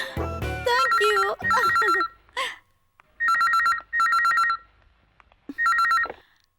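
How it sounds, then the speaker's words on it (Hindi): An old-style telephone bell rings in several loud, clipped bursts with pauses between them, after people talk over one another. "Bharat, phone for you"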